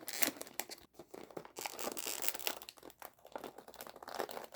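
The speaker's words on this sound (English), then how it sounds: "I'm just running tape lines along the inside flap there." Tape being pulled and pressed along the inside flap of a custom chip bag, close crinkling and tearing rustles in quick irregular bursts, faint and with brief pauses.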